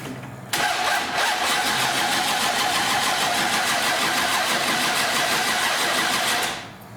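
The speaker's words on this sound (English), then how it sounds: "Chevy 350 without exhausts" Chevy 350 V8 without exhausts cranks and fires, then runs as a loud, raw, rapid engine rumble for several seconds before cutting off abruptly, with no talking.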